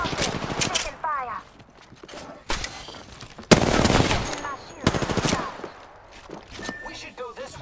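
Rapid automatic gunfire from Apex Legends rattles in repeated loud bursts with short pauses between them, while players talk over the shooting.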